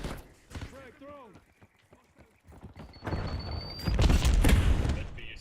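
Grenade explosions rumble in a video game, with a burst of heavy booms and crackling blasts near the end after quieter game sounds and a brief rising whistle.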